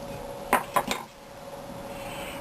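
A small metal brake pad clip snaps into place on a Mazda 6 front brake. It makes three quick, bright metallic clinks close to the listener within about half a second. A low background hum follows.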